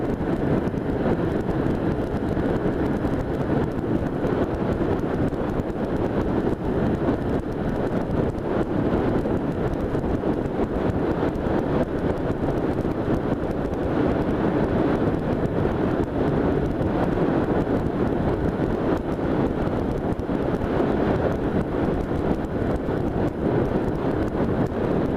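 Steady loud wind buffeting the microphone while riding a motorcycle in light rain, a constant low roar with no letup and no speech.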